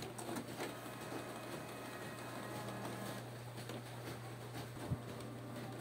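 Canon Pixma inkjet printer running a print head cleaning cycle, a faint steady mechanical hum with soft ticking and clicks, one brief clunk near the end.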